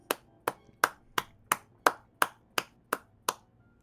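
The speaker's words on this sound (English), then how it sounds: "they just kind of begin to gently clap." Slow, evenly spaced claps during an improvised tabletop fantasy game session, about ten sharp separate hits roughly a third of a second apart, crisp and alone with no talk.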